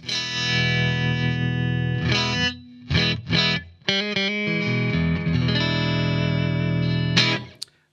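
An electric guitar plays through a Blackstar AMPED floorboard amp set to a USA Fender-style clean tone. Sustained chords give way to choppy stabs and short phrases, ringing up close before a final note cuts off.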